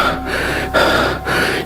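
A man jolted awake and sweating from a dream pants hard, three heavy, rasping gasping breaths close up, with no words spoken.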